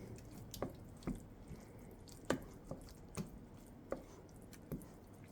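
Horseradish being stirred into a Polish beet relish, heard as soft, wet squelching and spoon taps in a slow, irregular rhythm, close and quiet with no talking.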